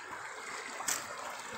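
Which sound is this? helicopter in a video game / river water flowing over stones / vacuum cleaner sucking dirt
river water flowing over stones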